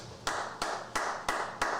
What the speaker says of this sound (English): Hey, where's the applause? Oh, applause button.